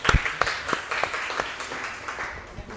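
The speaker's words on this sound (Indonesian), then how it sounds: "Tepuk tangan." A classroom audience claps after a group presentation, a patter of scattered hand claps close by with some faint talk underneath.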